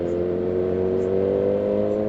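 Kawasaki Z1000 motorcycle engine running with a steady, strong droning tone near a street corner during a town fiesta, loud and continuous.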